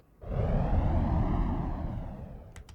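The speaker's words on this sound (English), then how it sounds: "this is just white noise I generated with phase plant." Synthesized white noise from a Phase Plant noise generator, entering after a short pause as a broad, steady hiss-like roar that slowly fades over a few seconds, ending with faint ticks.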